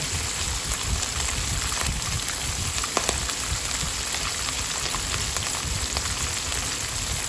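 Thai short mackerel fries in a pan with shrimp paste, a dense, continuous, close sizzle and crackle holding steady throughout with occasional sharper pops.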